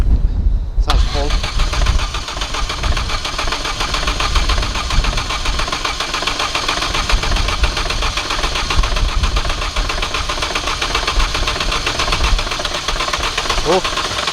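A car engine with low compression cranks and fires straight away, then settles into a loud, rough, steady run close by, with some voices talking over it.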